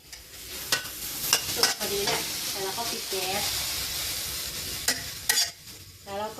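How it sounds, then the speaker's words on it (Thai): Sesbania flower chili paste being stir-fried in a pan, a steady close sizzle with intermittent scraping and clacking of the spatula stirring through it, no talking. "อันนี้เราก็ผัดจนมันสุกทั่วกันแล้วนะ"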